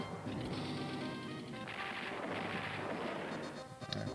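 Artillery fire in the Advance Wars video game, a dense, steady rumble of booming, crashing game effects that holds loud for about four seconds before breaking up into a few sharper hits at the end.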